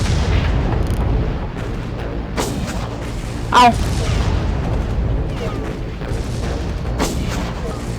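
Booming blasts and bursts of gunfire from a Far Cry game scene, with rumbling impacts and a sharp crackling hit, a brief voice heard once.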